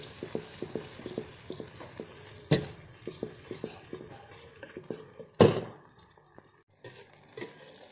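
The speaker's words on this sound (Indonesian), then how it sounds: "Daun salam, masuk lengkuas. Kita tumis buat sampai wangi dulu." Bay leaf and galangal sauté in a pan for oseng tempe, with a soft low sizzle under repeated spatula stirs and scrapes, plus two sharp louder clatters, no talking.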